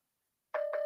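A phone charger gives off an electronic alert: two short beeps with a steady tone running under them, loud and close, after half a second of silence.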